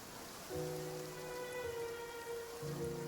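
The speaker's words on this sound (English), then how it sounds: "It's been raining non-stop for a few days now." Steady rain falling in the game Genshin Impact, a continuous soft patter over low tonal music, faint and unbroken.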